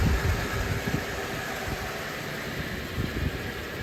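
An older car's engine idles steadily after an idle adjustment, a low even rumble under a constant hiss with no talking.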